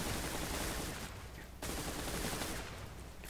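Gameplay gunfire from the PC shooter Zula, dense continuous bursts of rapid shots forming a loud wash of fire, with a brief dip in intensity midway before resuming.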